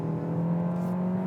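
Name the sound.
2021 Kia K5 engine accelerating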